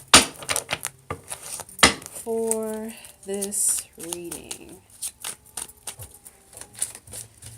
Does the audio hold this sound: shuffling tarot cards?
yes